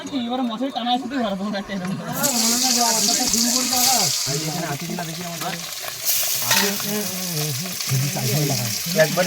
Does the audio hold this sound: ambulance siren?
no